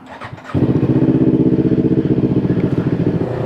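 A motorcycle engine starts after a moment of shuffling and settles into a loud, steady, throbbing idle close by.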